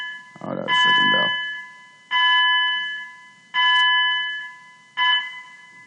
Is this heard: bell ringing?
yes